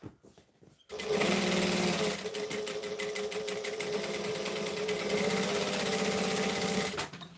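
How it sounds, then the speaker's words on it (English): A sewing machine chain sews in one continuous run of fast, steady needle rattling, close and loud, starting abruptly after a second of quiet and stopping near the end. "I like to chain sew everything"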